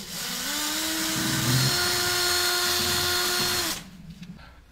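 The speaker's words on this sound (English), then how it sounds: "all you need to do is get your cordless drill" A cordless drill whines steadily at high speed for several seconds, drilling out a carbon rod from a diesel glow plug, close and loud, its pitch dipping slightly under load before it stops abruptly.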